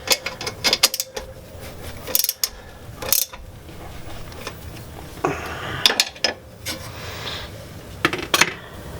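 Metallic clicks, ratcheting and clanks from a tool being tightened to push brake caliper pistons in during a brake caliper and rotor installation, coming in irregular bursts with short pauses between.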